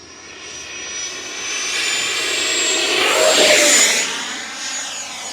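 An FMS F-18 Hornet 70mm electric ducted-fan RC jet takes off, its whine building to a loud peak as it passes close, then easing slightly as it climbs away; no talk.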